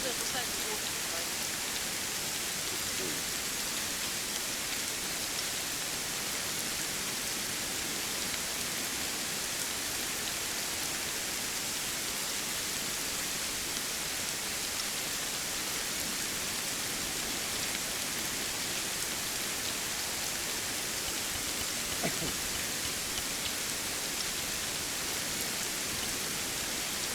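Rain falling steadily during a stormy day in Colombia, a constant dense hiss of drops on surfaces with no pauses, fairly loud and even throughout.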